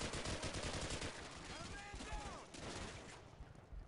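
Dense automatic and rapid gunfire from Call of Duty: Modern Warfare 2 fills the scene, loud and continuous bursts with overlapping shots and a brief voice underneath.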